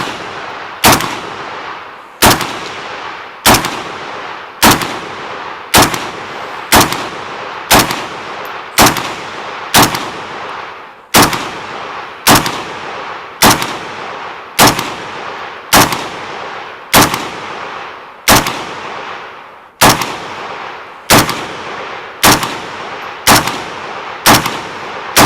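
Century Arms C9V2 pistol fired at a range, about twenty-five loud sharp shots in a slow, even rhythm, close and alone, each crack followed by a short decaying echo.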